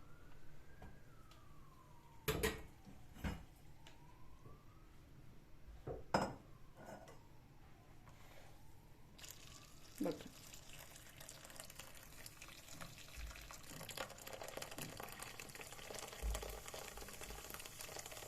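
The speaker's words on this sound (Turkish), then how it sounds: "Şimdi kaynar suyu ilave edeceğim." Boiling water is poured over baking soda to dissolve it, making a steady close hiss and fizz that swells partway through, while a siren wails faintly in the distance.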